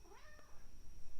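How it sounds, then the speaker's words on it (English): A pet cat meows indoors, a couple of clear, drawn-out rising cries close by with quiet room tone between them. "Sorry if you hear my kitty."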